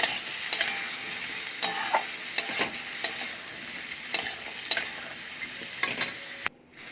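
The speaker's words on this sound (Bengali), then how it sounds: "এবার ভালোভাবে নেড়ে ছেড়ে কষিয়ে নেব" Chili and cumin powder stir-fried for a jackfruit seed curry, a steady close sizzle under repeated scraping taps of a spoon against the pan, ending with a brief drop near the close.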